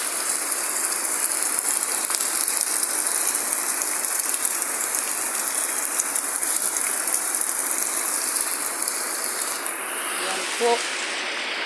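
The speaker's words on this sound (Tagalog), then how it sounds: "Tignan niyo po kalakas po ng ating ulan." Heavy rain pours down in a dense, steady hiss for the whole stretch, with a brief spoken phrase near the end.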